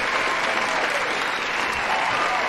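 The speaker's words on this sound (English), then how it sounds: "I have to give a round of applause to Chris Antos and Mr. Conway for their hard" A room full of people claps steadily, a dense, even burst of applause with no pauses.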